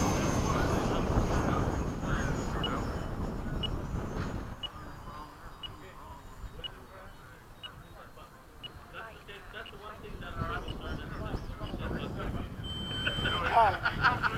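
F-5 jet fighters take off in formation down the runway at LFE, a loud broadband jet roar that fades through the middle and swells again toward the end.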